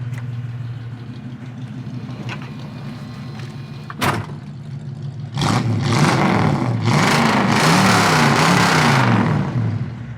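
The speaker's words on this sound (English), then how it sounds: "I don't know if the exhaust is correct either, because that sounds pretty freaking good" 1970 Ford Mustang Fastback idling with a low, steady exhaust burble, a door-like thump, then the engine revs up loud and rough and holds a throaty roar.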